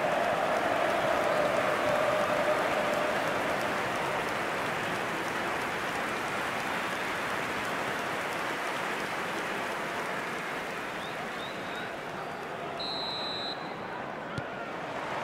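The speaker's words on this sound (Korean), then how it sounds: "경기장 안팎에 엄청난 인파가 모여 있습니다." Stadium crowd ambience from the eFootball 2022 football video game, a dense, steady wash of distant crowd roar that sustains evenly throughout, with a brief tonal blip near the end.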